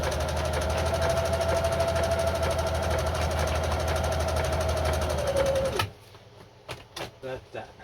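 A Singer Genie sewing machine runs a blind stitch with a fast steady mechanical chatter and hum, close and continuous for several seconds before stopping, followed by a few quiet clicks and handling sounds.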